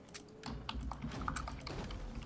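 Rapid computer keyboard typing clatters steadily at close range, a dense run of clicks layered over low game music and background hum.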